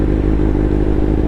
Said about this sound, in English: If you want, you can just turn off your engine, get rid of that noise, have some peace.